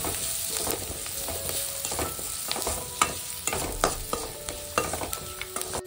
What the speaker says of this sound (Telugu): ఇది చక్కగా మిక్స్ చేసుకోవాలి.